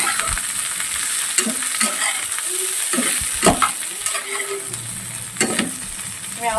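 Potato and okra fry in a pan while being stirred, with a bright continuous sizzle broken by repeated scraping and clattering strokes of the spatula, close and loud.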